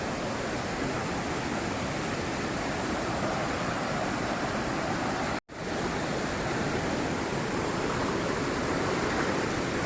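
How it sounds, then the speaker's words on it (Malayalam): Water below Kappimala waterfall in Kerala rushes through two or three channels in a loud, unbroken broadband wash, briefly cut by a short dropout midway, with no one speaking. "ഇതുപോലെ ഇങ്ങനെ 2-3 ചാലുകളായിട്ട് ഇങ്ങനെ വെള്ളം പോകുന്നുണ്ട്."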